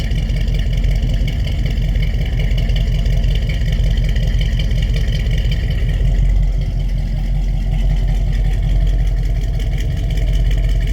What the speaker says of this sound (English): new dual exhaust, and it's also got the ceramic coated headers up front, so true dual all the way out.